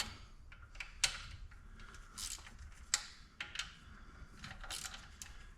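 Bolts being loosened and pulled from the transmission pan of a 1966 Ford Mustang: scattered faint metallic clicks and ticks with a few sharper taps, close up and quiet, no speech.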